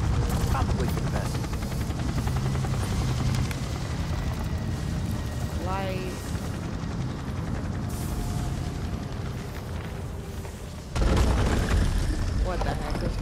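A helicopter drones steadily in a stormy scene of the video game Gotham Knights, its loud rotor hum continuous under the game's dialogue, with booming effects and a louder burst near the end.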